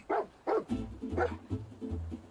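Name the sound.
dog barking in Fallout 4 video game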